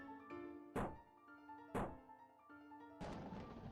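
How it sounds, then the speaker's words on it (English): Two hard hammer thunks against a cracked wall in The Crooked Man, an RPG Maker horror game, each a sharp isolated impact about a second apart, followed by a rougher crumbling burst as the wall gives way, with a faint game tune underneath. "Might be able to widen the crack with the hammer."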